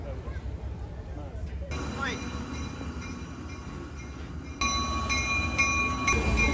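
A train idles at a railway platform in Peru's Sacred Valley on the way to Machu Picchu, a steady low rumble with mechanical whine and tonal hum, growing louder partway through, under a busy background of people.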